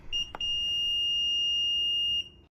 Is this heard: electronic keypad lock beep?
yes